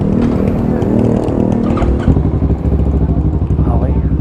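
A Kawasaki Z650 motorcycle with an Orion exhaust runs with a loud, deep engine rumble close by, its pulsing note shifting slightly as the revs change. Someone talks over it throughout.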